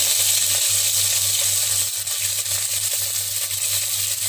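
Spices and onion hit hot oil in a pan for chicken biryani, making a constant close, hissing sizzle over a low hum, with no voices.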